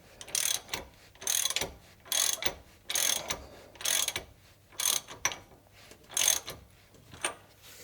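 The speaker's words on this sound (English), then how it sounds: "So I'll just give that nut a tighten up." A ratchet tightens the rear pinion nut on a 105 Series Land Cruiser, giving about a dozen crisp, evenly spaced clicking strokes, close and clear with no talking.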